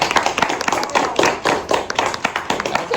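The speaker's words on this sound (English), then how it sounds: "Give them a round of applause." A sixth-grade class claps together in a dense, continuous round of applause, fairly close, lasting the whole stretch.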